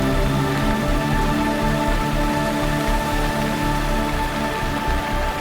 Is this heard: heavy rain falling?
yes